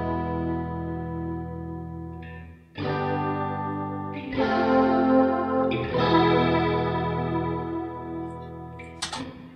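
Electric guitar played through both flanger and reverb, swirling sweeping chords struck several times in succession, each ringing out and blending into a washy tail, loud with no talk.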